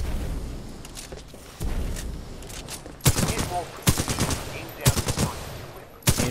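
First-person shooter gunfire from Titanfall 2 while aiming down sights: several loud, sharp bursts of automatic fire in separate volleys, standing well above a quieter bed of game ambience.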